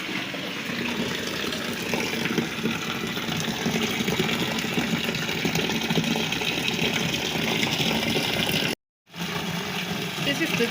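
A washing machine fills with water for a rinse cycle, a steady rushing gush running continuously under background noise, broken by a brief silent gap near the end.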